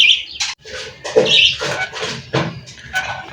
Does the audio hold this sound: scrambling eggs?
no